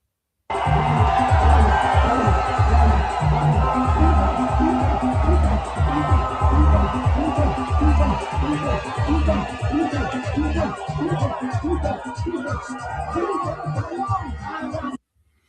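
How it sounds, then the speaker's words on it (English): A large, dense crowd at a Bobi Wine campaign rally in Uganda, a loud continuous roar of voices and cheering with rhythmic pulses, as if chanting, sustained throughout. "You can see there is a huge crowd here in support of Bobi Wine."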